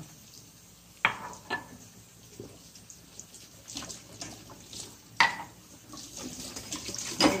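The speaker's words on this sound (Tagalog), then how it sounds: "Hugas muna tayo ng plato." A kitchen tap runs steadily into a sink while dishes are washed, with clinks and clatters of plates and utensils at irregular intervals over the low splash of water, close by and fairly quiet.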